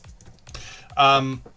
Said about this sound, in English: Pardon me, because I'm typing while I'm talking.